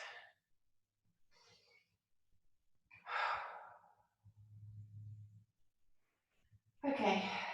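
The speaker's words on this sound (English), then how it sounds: "take a few deep breaths" Deep breaths taken in a tall kneeling stretch, rocking back onto the heels: slow, soft inhales and exhales spaced over several seconds, with a low voice murmuring in the middle.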